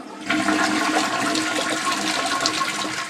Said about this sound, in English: turn it off, flush the toilet